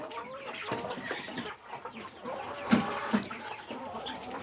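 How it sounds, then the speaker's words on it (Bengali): Around a hundred egg-laying layer hens in a poultry shed, scattered soft clucks and short calls from several birds, near and fairly quiet, with no talking. "এখানে আমার ডিমের 100 লেয়ার মুরগি আছে।"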